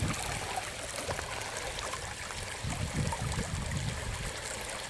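Water runs steadily through a flow form sculpture in a garden, a continuous trickling, splashing stream heard up close with a slightly fuller gurgle partway through.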